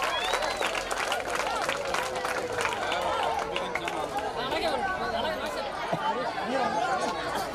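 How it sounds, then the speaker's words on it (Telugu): At a school alumni reunion prize ceremony, a crowd applauds prize winners with steady, dense clapping throughout, mixed with chatter and voices from the gathering. "క్లాప్స్ గట్టిగా."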